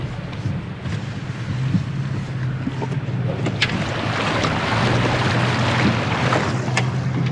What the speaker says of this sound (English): We're gonna drive through this water, and it gets pretty deep.